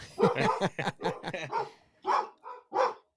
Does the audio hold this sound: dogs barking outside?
yes